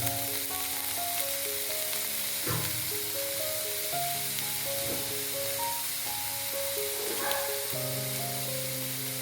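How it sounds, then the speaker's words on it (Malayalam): Sautéed onion and chopped green chili sizzling in a hot pan, a continuous even hiss with occasional louder spits, while a steady tonal hum plays underneath throughout. "ഉള്ളി ഒന്ന് വഴറ്റിയതിന് ശേഷം അതിനകത്തേക്ക് നമ്മൾ അരിഞ്ഞു വെച്ചിരിക്കുന്ന ആ പച്ച ഇട്ട് കൊടുക്കുക."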